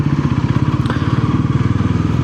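A Bajaj Pulsar NS400Z motorcycle with around 10,000 km on it idles close by, its engine thumping in a steady, rapid low pulse that stays loud and even throughout.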